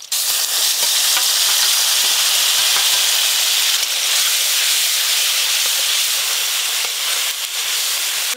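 Loud, steady sizzling and hissing of tomato paste frying in a hot pan with already-fried slit green chilies, continuous throughout with faint stirring clicks and no voices.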